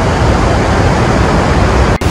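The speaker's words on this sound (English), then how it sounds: "All those waterfalls." Powerful, steady roar of rushing water at Iguazu Falls, Argentine side, a thick broadband rumble of falls pouring nearby, unbroken until an abrupt cut at the end.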